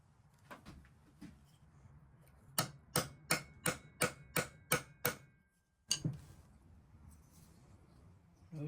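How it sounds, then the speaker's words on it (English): A hammer raps a pin in a vintage knife with a quick run of about eight sharp, evenly spaced metallic knocks, preceded by a few softer taps and followed by a couple more, close and clear with no talk. "Now we're gonna try to knock the other pin out a little bit"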